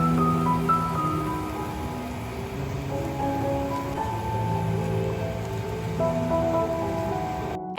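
Maggi noodles and an egg fry together in one pan, giving a steady, close crackling sizzle that runs unbroken throughout, with soft tonal sounds in the background.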